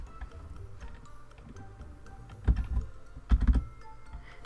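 Computer keyboard typing in a home setting, a run of soft key clicks with a couple of heavier clustered bursts near the end, close and fairly quiet, no talking.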